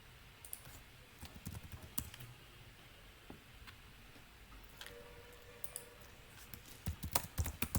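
Typing on a computer keyboard, a run of quiet key clicks in irregular bursts that grows denser and louder toward the end, with no talk.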